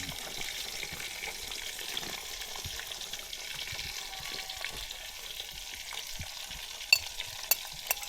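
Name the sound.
vegetables frying in a pan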